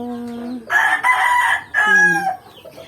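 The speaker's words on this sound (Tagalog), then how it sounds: "may manok pa dito" Rooster in a backyard farm coop crowing loudly and close, with a short lower cluck before it and a second drawn-out crow after a brief pause.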